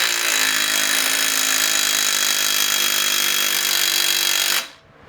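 A cordless impact wrench runs forward at working torque in one continuous high-pitched whine that holds for several seconds, close and loud, then cuts off abruptly.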